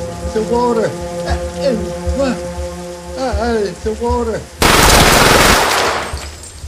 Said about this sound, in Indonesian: Teddy malah menembak Vidik dan juga membunuh Anthony